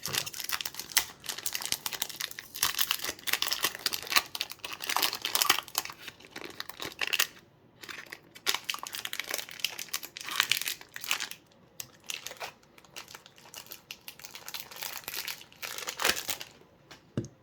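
Crinkling and tearing of tape and wrapping on a birthday package being opened, a steady busy stream of close crackles and rips with brief pauses.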